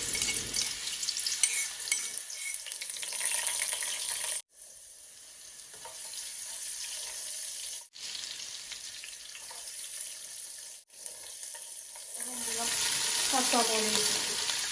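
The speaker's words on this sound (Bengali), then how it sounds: "তেল গরম হয়ে গেছে এখন রসুন দিলাম" Garlic hitting hot oil for a fish curry sizzles and fries steadily, a loud continuous hiss broken by a few brief cuts and swelling stronger near the end.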